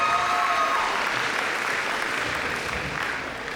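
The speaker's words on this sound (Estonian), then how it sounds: "Suur aplaus just" Audience applause at a ball hosts' contest event, a dense steady wash of many hands clapping that slowly fades toward the end.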